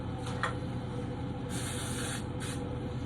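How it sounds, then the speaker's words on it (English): Short hissing bursts of CLP gun lubricant from an aerosol can sprayed into a rifle's locking lugs, several quick sprays over a steady background rumble, close by. "I guess I'll spray a little CLP down into the locking plugs here"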